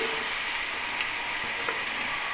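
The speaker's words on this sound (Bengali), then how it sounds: "মুগের ডাল এটা ভাজা হবে আর তেলটাও দেখবে সুন্দর ছেড়ে আসবে" Moong dal and papaya pieces frying in hot oil in a home kitchen, a steady loud sizzle with a couple of faint utensil taps, no voices.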